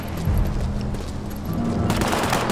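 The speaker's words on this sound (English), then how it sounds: "The fuck they shooting at?" Rapid gunfire rattles in the World War II game War Mongrels, dense bursts of shots layered over constant battle noise and growing harsher toward the end.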